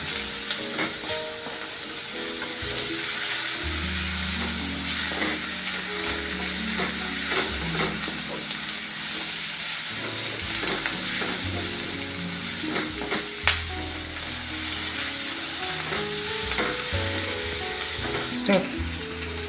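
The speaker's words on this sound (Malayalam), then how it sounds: "ഇതിലെല്ലാം പച്ചമണം മാറി കിട്ടുന്നവരേക്കും ഒന്നിങ്ങനെ ഇളക്കിക്കൊണ്ടിരിക്കണം" A pan of masala with finely chopped ingredients sizzles loudly for a Kerala-style egg curry while a spoon keeps stirring and scraping it in rhythmic strokes. The sound is continuous and close, with no talking.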